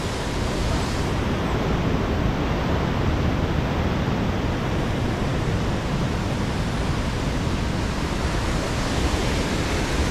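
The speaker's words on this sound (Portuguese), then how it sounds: "Cachoeira de Itaporoni. Cachoeira da noiva." The Cachoeira de Itaporoni waterfall in Itatiaia National Park roars as a steady, broad wash of falling water, loud and close and unbroken, with no voices.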